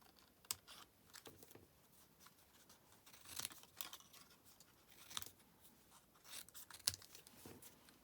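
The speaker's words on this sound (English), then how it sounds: "we're then going to fussy cut, being really careful not to cut that pom-pom off" Scissors fussy cutting carefully around a pom-pom on a paper card for a children's birthday card, giving quiet, sparse snips and paper rustles at close range.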